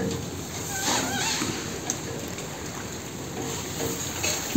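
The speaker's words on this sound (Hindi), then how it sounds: "अफ्तारी के बाद जो है काफ़ी तेज़ बारिश शुरू हो गई थी।" Heavy rain falls outside at night, a steady moderate patter and hiss with occasional splashy surges, continuing evenly throughout.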